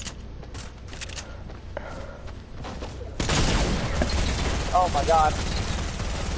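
SMG fire in a duo shooter video game comes as dense rapid bursts, joining faint scattered shots that build into sustained loud automatic fire. An excited voice cries out over the gunfire.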